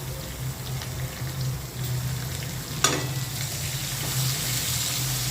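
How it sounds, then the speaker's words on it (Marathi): Chopped onion and two green chillies fry in an oil-filled pan for a Dhaba-style baingan masala, with a steady close sizzle, a low hum underneath and one sharp stirring clink partway through. "मिरच्या टाकते त्यानंतर एक बारीक चिरलेला कांदा ॲड करते"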